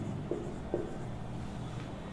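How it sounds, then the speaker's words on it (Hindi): Chalk or marker scratches a number onto a classroom board in a short run of faint strokes, with two slightly sharper taps, under a steady low background hum. "मैंने आपके सामने एक नंबर लिख दिया।"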